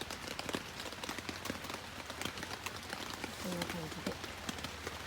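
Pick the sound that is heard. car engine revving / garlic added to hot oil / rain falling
rain falling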